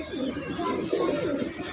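A small-bodied pigeon cooing softly in a pigeon loft, a steady low murmuring coo up close with faint background voices.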